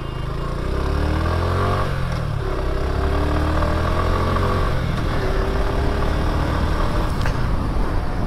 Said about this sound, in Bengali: বাইকটার সাউন্ড নোট কিন্তু জোস, কারণ বাইকটাতে ডুয়েল ব্যারেল এক্সজস্ট ইউজ করা হয়েছে